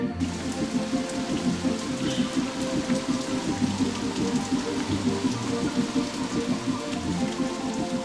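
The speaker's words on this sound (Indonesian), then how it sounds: "Ini adalah hujan ajaib." Heavy cartoon rain pours from a storm cloud, a dense steady patter of drops on a surface lasting throughout, with a low rumbling undertone and no voices.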